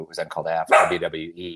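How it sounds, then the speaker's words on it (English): A pet dog barks in short yips and woofs, close by, mixed in with someone talking over it. "Sorry, that's my dog. She heard WWE, she started barking."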